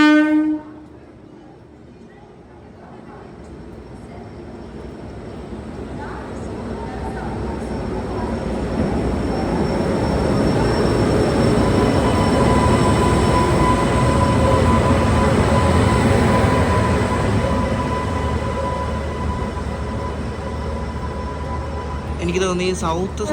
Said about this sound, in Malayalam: നാഗർസോളിൽ നിന്നും നരസാപൂർ പോകുന്നൊരു സൂപ്പർ ഫാസ്റ്റ് എക്സ്പ്രസ് ഇപ്പോൾ വരും ഈ പ്ലാറ്റ്ഫോമിൽ